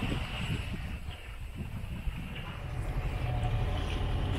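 A sailboat motoring under its engine in a dead calm, off the Sardinian coast near Capo Mannu. A steady low engine drone and water rush run throughout, with light wind buffeting on the microphone and no talk.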